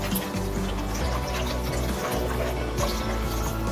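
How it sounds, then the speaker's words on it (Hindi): Water poured into a chili sauce mixture for Manchurian, a continuous trickling, splashing pour with steady liquid noise throughout, fairly close and unaccompanied by talk. "तो हम इसमें हस्बे जरूरत पानी ऐड करते हैं ताकि इसमें लम्स ना लगे"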